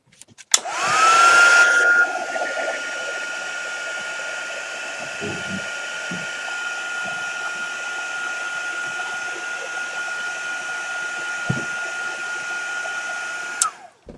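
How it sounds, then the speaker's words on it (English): A heat gun blows hot air in a steady, loud, continuous broadband whoosh that holds for over ten seconds during a Hogwarts model build, with a few faint knocks beneath it before it cuts off. "Let's hit it with the heat gun a minute so that I'm not going to ruin it."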